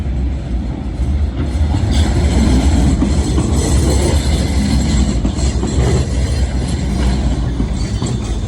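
A tram running on a single two-way track in Sofia, Bulgaria, gives off a loud, steady rolling rumble with faint wheel clatter and squeal, close by and continuous throughout, with no voices.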